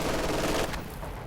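Sustained machine gun fire in the Company of Heroes 2 strategy game, a dense rattling burst that stays loud and steady before easing off slightly, heard alone without voices.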